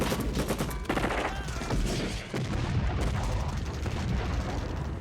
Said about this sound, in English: There's so many explosions in this sequence.